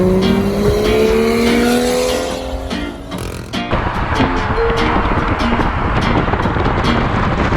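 A BMW M4 with S55 engine and a BMW M2 racing, heard as loud, close engine drones rising in pitch with gear changes, followed by a rough roaring rush with sharp ticks as the cars speed along.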